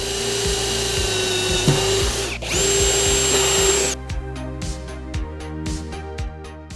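A power drill bores a hole for the terminals of a simple subwoofer box, whining loudly and steadily for several seconds. Its pitch shifts partway through, then it runs on in short bursts.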